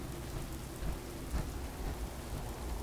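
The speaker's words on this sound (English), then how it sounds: "Not a rad storm." A radiation storm in the video game Fallout 4 fills the air with dense rain-like hiss and low rumbling thunder, a couple of soft booms rising out of the continuous wash.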